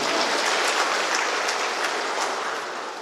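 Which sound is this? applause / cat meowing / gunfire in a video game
applause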